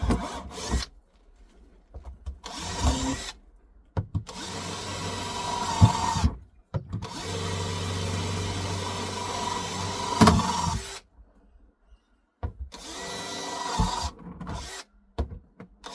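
A power drill bores drainage holes in a container, several bursts of grinding, rasping drilling of a few seconds each, separated by near-silent pauses, fairly close and with no talking.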